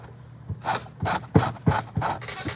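Harsh rasping strokes against a rough full-leather welding vest being distressed, about six loud scraping passes in a steady rhythm, close and alone with no talk.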